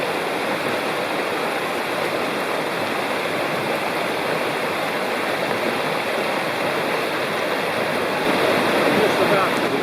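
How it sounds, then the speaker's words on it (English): The North Fork of Citico Creek in Cherokee National Forest rushes steadily near a bridge, a loud, continuous broadband roar of whitewater that swells slightly toward the end. "Just about to the end of the North Fork of Citico Creek."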